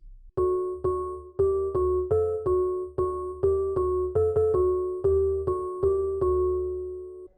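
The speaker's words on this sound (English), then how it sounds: "Synth Collapse. It's off key but sounds cool" Synth preset named Synth Collapse from a bass house and tech house sample pack, playing a bell-like, slightly off-key melody of about fifteen plucked notes in a bouncy rhythm, clear and close.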